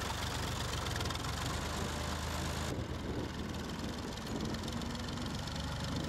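A tractor engine idles steadily on a croft at harvest time, a continuous low mechanical rumble with a faint knocking rhythm, fairly close and loud throughout with no talk.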